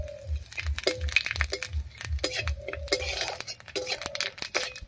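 Whole cumin seeds dropped into hot oil already frying dried red chillies, whole garam masala and bay leaves crackle and sizzle with sharp clinks and pops, alongside steady low pan noise.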